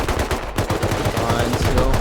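Steady, close automatic gunfire in the survival game Rust, a fast continuous rattle of shots filling the whole moment at high volume.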